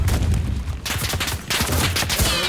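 Bursts of gunfire in the Enlisted war game crack out in quick clusters, loud and close, with a brief lull before the firing starts up again.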